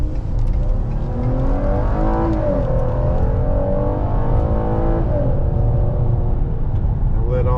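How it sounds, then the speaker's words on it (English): A 2015 Ford Explorer Police Interceptor in gold Detective Edition trim accelerates hard from inside the cabin, its engine note climbing steadily through gear changes, loud and continuous throughout. "We're going to do a full acceleration."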